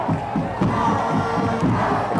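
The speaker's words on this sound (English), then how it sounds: "The crowd's getting into the game." A stadium crowd at a 1984 high school football game between East Brunswick and JP Stevens roars and cheers continuously, a dense wash of many voices with shouts rising in waves.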